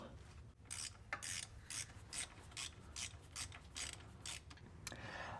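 A ratchet clicks through quick, rhythmic bursts while tightening the bolts of a new starter on a B8 Audi A5 2.0T. The sound is close and moderately quiet, with brief pauses between strokes.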